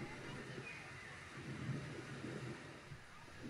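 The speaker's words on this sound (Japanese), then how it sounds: "こうやって雨も降ってきたり、すごくリアルなんですよね" Steady simulated rain with low rumbling thunder from a digital play attraction's projection screen, a constant wash of noise at moderate level throughout.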